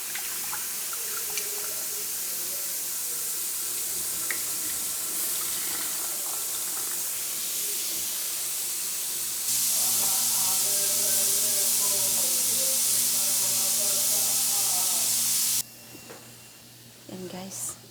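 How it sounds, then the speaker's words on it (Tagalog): A pressure cooker on a home stove hisses steam in a sustained, loud rush that intensifies partway through before cutting off, with someone talking over it and kitchen clatter around. "maingay na yung pressure cooker"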